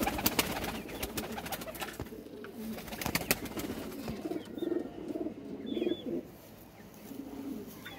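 Purebred pigeons coo in repeated low, throaty bursts at close range, with faint chirps and rustling in the background of a Gujranwala pigeon loft.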